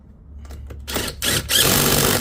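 A nut is tightened down on a golf cart's steering wheel, giving short whirring, mechanical bursts that build to a louder, steady buzz over about two seconds, close up.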